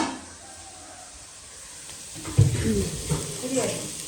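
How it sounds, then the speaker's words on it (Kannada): Onion drops into hot tempering oil and bursts into a loud, close sizzle that keeps hissing and crackling, with stirring noises mixed in. "ಒಗ್ಗರಣೆಗೆ ನೀರುಳ್ಳಿ ದಿಯೇರು"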